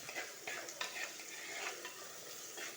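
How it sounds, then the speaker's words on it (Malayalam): Ginger and green chillies sauté in a pan with curry leaves for a Kerala fish curry, a faint steady sizzle with soft stirring strokes, close and fairly quiet. "ഇഞ്ചി പച്ചമുളക് അതെല്ലാം ഇട്ട് കൊടുക്കുക ഇനി ഒന്ന് നന്നായിട്ട് വഴറ്റി കൊടുക്കാം"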